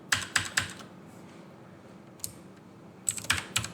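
Keys clatter on a computer keyboard while Python code is entered, with quick bursts of three or four crisp taps at the start and end and a single tap between, close and clear over faint room noise.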